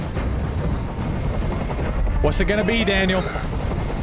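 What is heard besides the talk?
helicopter, video game Detroit: Become Human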